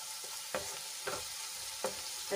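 Spices for a gravy sautéing in a hot pan make a continuous close sizzle, broken by several sharp stirring scrapes at irregular moments, with no voice.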